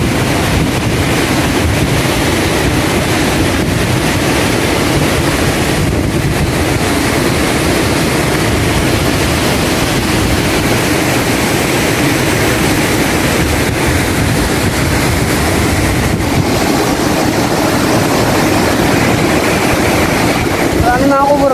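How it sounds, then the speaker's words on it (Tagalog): Loud, continuous rushing of a strong, fast-flowing river current over rocks with wind buffeting the microphone, a dense roar that never lets up. "Malakas yung agos eh, tubig."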